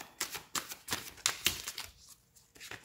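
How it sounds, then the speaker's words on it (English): Tarot cards being shuffled, a quick series of crisp slaps and riffling clicks, fairly close and uneven in rhythm. "Let me get one more good shuffle."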